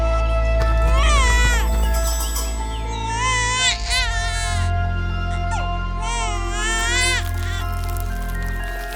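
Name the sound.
baby crying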